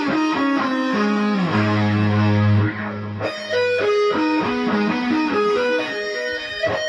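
Distorted electric guitar plays a fast neoclassical shred arpeggio, notes ringing in quick cascading runs with a brief held low note midway, loud and alone.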